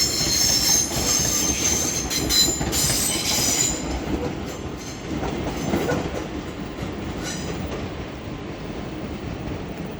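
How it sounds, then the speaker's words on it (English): A British Rail Class 331 unit departs Leeds for Doncaster, its broadband rumble and rail noise steady and near, with bright wheel squeal in the first few seconds that fades as the train pulls away. "So there goes a 331001 off to Doncaster."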